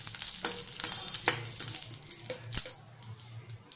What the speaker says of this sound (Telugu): ఇప్పుడు ఆవాలు, ఎండుమిర్చి వేసుకుని పోపు వేపుకుందాం.